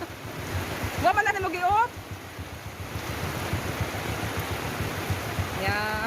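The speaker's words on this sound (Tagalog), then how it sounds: "Kaibigan, umuulan." Steady rain falls outdoors as a dense, even hiss, with a person's voice speaking briefly over it and a few faint tonal chirps.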